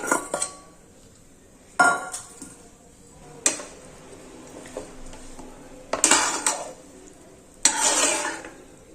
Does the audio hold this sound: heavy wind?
no